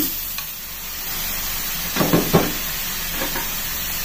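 Ground meat and ham sautéing in a pan for spaghetti, a steady sizzle with a few sharp scraping stir strokes near the middle, close and without talk.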